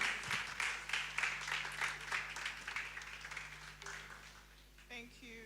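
Audience applause at a Reinvention House Ministries gathering, fairly faint clapping that tapers off before a voice begins speaking at the end.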